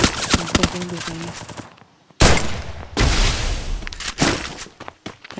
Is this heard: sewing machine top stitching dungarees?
no